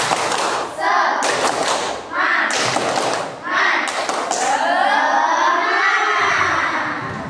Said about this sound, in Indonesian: Coba tes, tepuk semangat.